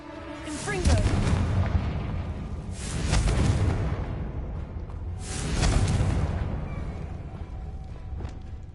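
Explosive Confringo spell blasts in the video game Hogwarts Legacy, three heavy booming detonations a couple of seconds apart, each swelling and rumbling away, with a spoken incantation before the first.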